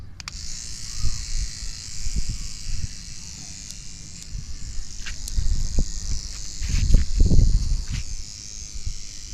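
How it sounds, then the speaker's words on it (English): Electric toothbrush buzzes in short bursts as it shakes brinjal, tomato and chilli plants for hand pollination, a close intermittent whine with rustling and faint background noise. "you can actually see the pollen dust being sprayed out when you are doing this shaking using the electronic toothbrush"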